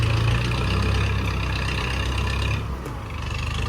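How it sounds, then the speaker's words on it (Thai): A farm tractor pushing earth in a field, its heavy diesel engine droning loud and steady at close range, easing slightly near the end, with no talk. "เอารถไถเขียทีละนิดครับ"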